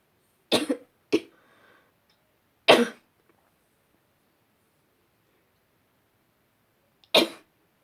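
Four sharp coughs, close and loud, with pauses of silence in between; the first two come in quick succession.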